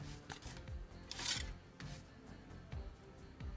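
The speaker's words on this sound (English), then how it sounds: "For the landscape, I first cut out some foam strips." Scissors cutting foam strips for an ostrich-egg diorama, with faint close snips and soft crunching cuts in a loose rhythm, quiet and without speech.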